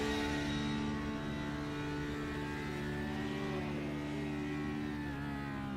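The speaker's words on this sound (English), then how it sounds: "the onboard for Patrick Masigowski as to what exactly happened to him when the car came to a halt" Onboard engine of a Porsche Cup race car in the iRacing sim at Algarve International Circuit, a steady, loud mid-pitched drone held at near-constant revs with no talk over it.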